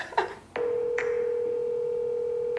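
A telephone gives a few short dialing beeps and then a steady, unbroken tone that holds until the end, just before an automated forwarding message; clear and close, with no talk.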